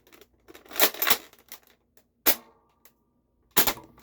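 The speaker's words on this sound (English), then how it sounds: "Now it wants to fire, but it missed the chronograph entirely." A Nerf Flipshots Flip-32 dart blaster fires with sharp, close mechanical snaps: a rattling cluster of clicks, then two separate loud pops with quiet gaps between them.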